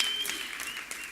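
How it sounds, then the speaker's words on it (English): An audience claps steadily at a community talk on risk and leadership, with a dense, even patter of applause throughout and no speech. "Let's give a little applause to Yoni."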